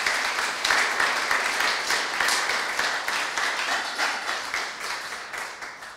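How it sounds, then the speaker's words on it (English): Steady audience clapping fills a conference festival hall, dense and continuous, gradually fading toward the end without any voices over it. "we probably should start clapping now"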